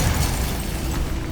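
In the Hogwarts Legacy video game, the Bombarda spell sets off a dense, rumbling explosion that fills the clip, loud and low, with a roaring wash and no clear attack.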